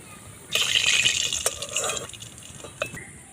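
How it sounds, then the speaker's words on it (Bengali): Sugar syrup is poured over fried semolina sweets in a short liquid gush lasting about a second and a half, followed by a few faint drips and trickles, close by. "এগুলো রসের মধ্যে দিয়ে দেবো চিনির শিরাটা মধ্যে দিয়ে দিলাম"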